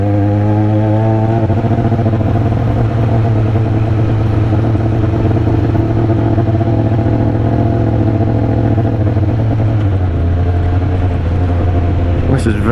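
A motorcycle rides a loose green lane trail near Sky Hill, with a loud, close engine droning steadily and a shift in pitch near the end.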